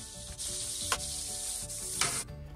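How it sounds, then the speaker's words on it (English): Pork sizzles steadily in a pan as the meat is lifted out, with two brief scraping clatters of utensil against metal over the continuous close frying hiss. "Now we're gonna remove all the pork from the pan."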